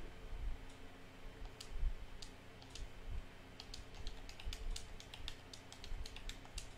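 Faint, rapid clicking of computer keys and buttons while someone plays a 1944 France war video game, irregular taps clustered in bursts over a low background murmur.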